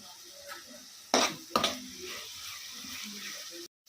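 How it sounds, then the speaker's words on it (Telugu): Tomatoes fry for egg bhurji in a pan with a soft sizzle, broken by two sharp utensil knocks and scrapes as they are stirred, close by, with no voices. "వేసుకొని కలుపుకొని కొంచెం కాసేపు బాగా వేయించుకోవాలి"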